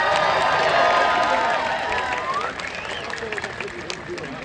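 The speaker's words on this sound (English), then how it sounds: "One more big round of applause for Cece." An audience applauds and cheers for Cece, a bird at a birds of prey show at the Maryland Renaissance Festival; the clapping is steady and strong, then thins out, with some crowd noise mixed in.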